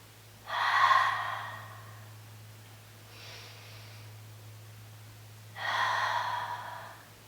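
Deep breaths during a yoga core exercise: two loud, airy exhalations near the start and end with a softer inhale between, close and unaccompanied by talk over a steady low hum.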